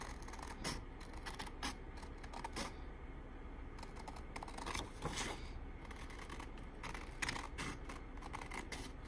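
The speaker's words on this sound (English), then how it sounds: "we want to cut along that arc. So I'm going to go ahead and do that" Scissors cut along a curved arc while trimming material for sublimating a pint glass, giving a close, steady run of crisp snips and rustles with no talking.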